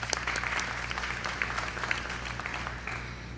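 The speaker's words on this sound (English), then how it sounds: "let's give her a little applause for giving her greetings tonight" An audience at a health event applauds after greetings from Ontario's Minister of Health and Long-Term Care, steady moderate clapping from a crowd heard at some distance with a low hum underneath.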